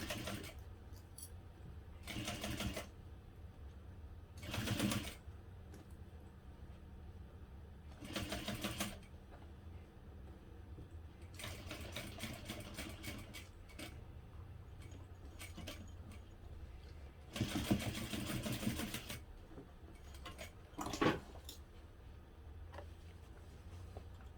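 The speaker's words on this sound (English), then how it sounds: "we flattened the side and then sewed through this section using a 5/8 inch seam allowance." A sewing machine stitches a seam on a hobo bag in several short bursts of rapid whirring separated by pauses, close but fairly quiet, with faint handling noises between runs.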